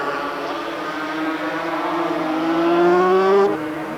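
An old 350cc racing motorcycle at the 1986 Australian 350 Grand Prix, Mount Panorama, Bathurst, howls up the main straight, its engine note climbing steadily under load and fairly close before cutting off abruptly near the end.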